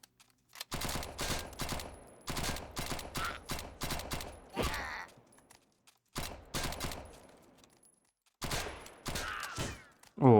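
Bursts of rapid video game gunfire from a bullet-hell shooter in several separate volleys with short pauses between, fairly close and sharp, no talking.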